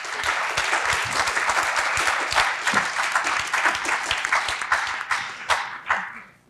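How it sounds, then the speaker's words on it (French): An evening event audience applauds the organisers, with many hands clapping in a dense, steady patter that holds strongly before thinning out and fading toward the end. "moi j'aimerais applaudir tous les organisateurs et organisatrices de cette soirée"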